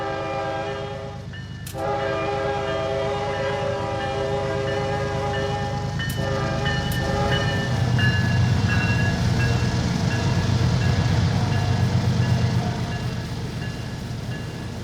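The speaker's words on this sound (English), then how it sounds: "CSX E311 rumbles by in Notch 8, a true company coal train." A CSX coal train of aluminum gondolas hauled by ES44AH locomotives rumbles past in Notch 8 in the Trainz railroad game, with a steady loud engine drone and short horn blasts early on.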